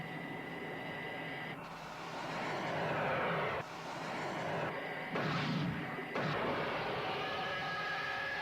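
Tranquilizer guns firing at alligators in a Thunderbirds puppet scene, heard as a few loud blasts and bangs over a steady rumbling background, with no talking.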